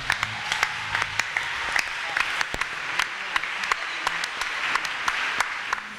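A church congregation applauds at a Sunday service, dense sustained clapping with sharp individual claps standing out, steady and fairly loud across the whole stretch.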